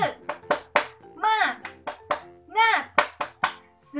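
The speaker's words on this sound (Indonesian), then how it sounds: "Kita tepuk semangat." Children in a classroom clap along with a rhythmic spirit clap chant, with sharp patterned claps interleaved with their chanting voices.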